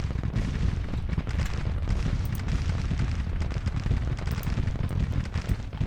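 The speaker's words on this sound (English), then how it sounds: "Make sure my guns are firing" Civil War artillery batteries firing in Grand Tactician, a steady dense rumble of booming cannon shots and distant gunfire rolling on without pause, with no talking.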